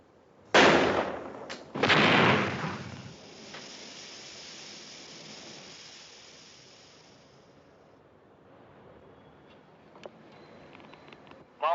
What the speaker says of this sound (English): Mossman, in 10 seconds, we're going to fire tear gas.